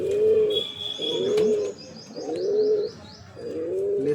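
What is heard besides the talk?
pigeon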